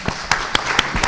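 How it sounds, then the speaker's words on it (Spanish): Seminar audience in a hall gives a sparse round of applause, a handful of distinct, fairly loud claps spaced about a quarter second apart over a low room murmur. "Un aplauso para..."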